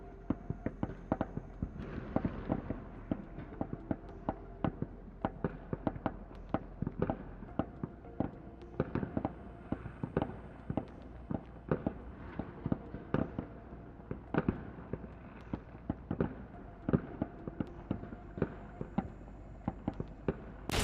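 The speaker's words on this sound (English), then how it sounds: "5 Russian soldiers with rifles opened fire on the bunker" Rapid, irregular cracks of rifle gunfire and sharp blasts during close combat at a bunker, dense and continuous bursts over a low rumble, with no voices.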